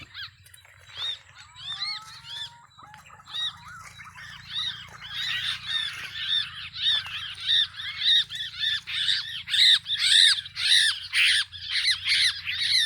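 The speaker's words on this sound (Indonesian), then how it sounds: "Lagi panen burung curucukan dan kutilang." Netted curucuk and kutilang bulbul birds squawk in a dense, rapid series of sharp chirping calls. The calls start sparse and grow louder and busier, close by, with a faint low hum underneath.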